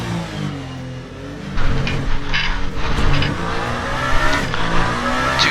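A GT race car in the Le Mans Ultimate racing game brakes over a curb during a 24 Hours of Le Mans race, a loud engine drone that surges, with brief tyre squeal and rattling curb impacts, close and steady.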